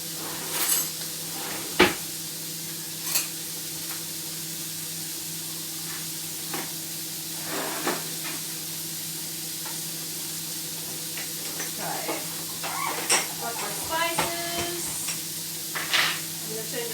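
Steady sizzling of cabbage and smoked pork belly in a frying pan fills the background, with occasional scrapes and clicks of stirring on top, close and moderately quiet.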